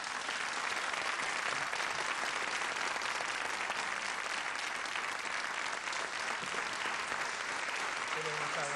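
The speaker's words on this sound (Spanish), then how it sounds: "le vamos a dar un gran aplauso" Sustained applause from a television studio audience, steady and dense throughout, with no speech over it.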